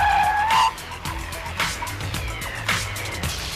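A 2017 Volkswagen Alltrack braking hard with ABS engaged, tires squealing briefly and then chattering in repeated pulses as the car slows, loud and close.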